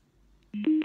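A small crab-shaped Bluetooth speaker powers on with a short electronic chime of two rising tones, clear and close after near silence.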